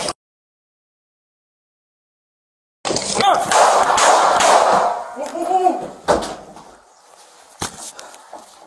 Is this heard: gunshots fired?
yes